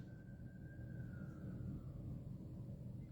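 A siren wails in New York, one faint, distant tone that slides slowly downward over a steady low rumble of city traffic and ambience.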